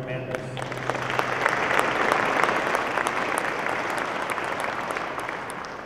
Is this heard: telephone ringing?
no